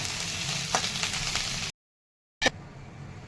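Jeera aloo is stirred in a frying pan after fresh coriander goes in. Under it runs a low, continuous sizzle with a few light scraping clicks, broken by a moment of complete silence before the frying resumes.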